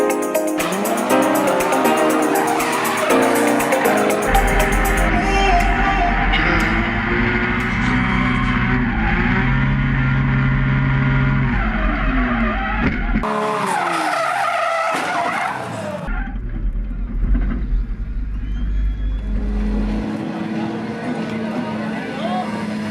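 Race car skidding hard through a corner and hitting a barrier, with screeching tires, roaring engine and abrupt jolts under a dense mix of music and a speaking voice, loud throughout.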